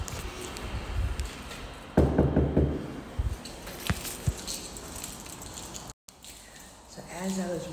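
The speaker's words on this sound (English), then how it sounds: "and I'm gonna knock" Several sharp knocks on an apartment door at a flower and candy delivery, scattered single raps amid footsteps and rustling, with a person speaking at points.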